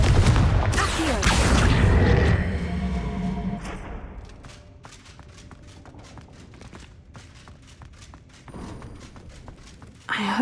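Booming Confringo blast explosions from the Hogwarts Legacy video game open loudly, then fade into a long decaying tail with scattered lighter clicks and thumps, and a smaller burst near the end.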